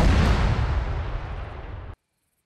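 A single heavy boom from an M110 A2 self-propelled howitzer firing in the video game Arma 3, loud and close, its rumbling blast decaying for about two seconds before cutting off to silence.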